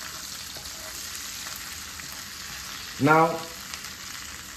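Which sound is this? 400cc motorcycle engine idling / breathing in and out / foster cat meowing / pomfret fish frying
pomfret fish frying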